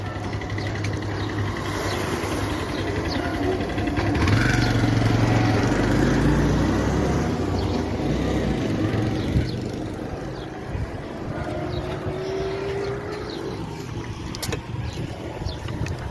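A tempo three-wheeler's engine drones steadily while riding with three passengers aboard, a continuous motor hum that swells slightly midway then eases, heard close with road noise and no talk.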